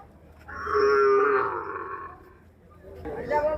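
At a busy cattle market, a cow lets out one long, drawn-out moo nearby. Another low call begins near the end over faint crowd murmur.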